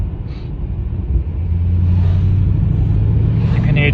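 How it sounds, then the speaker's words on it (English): A BMW M car in Sport Plus mode with its exhaust valves open, a deep rumbling drone that builds and holds steady as the engine pulls, loud and close from inside the car. "you can hear the valves open and close according to the car's emission standards."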